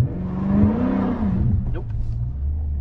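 A Dodge Charger SRT engine revs up to about 3,000 RPM for a launch, a loud close rumbling roar that swells then falls back to a steady idle rumble, with voices talking over it.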